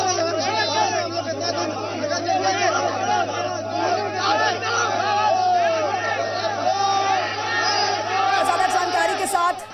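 Angry crowd of labourers shouting and clamouring at a tunnel collapse rescue site, dense overlapping raised voices and yells close by, continuous and loud throughout.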